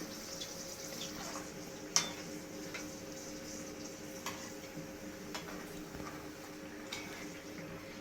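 Soya vadalu frying in oil give a faint, steady sizzle with a few sharp ticks and clinks now and then, with no voices over it.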